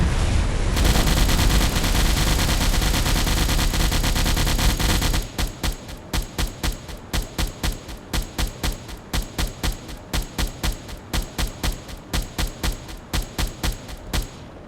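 A submarine deck gun fires in Silent Hunter 4. A dense, roaring burst of gunfire gives way to a long run of evenly spaced, loud, punchy shots.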